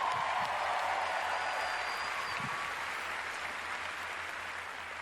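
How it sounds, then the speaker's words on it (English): A large audience at the Bethesda E3 2019 press conference keeps up dense, steady applause, loud and continuous, fading slightly toward the end. "Another round of applause,"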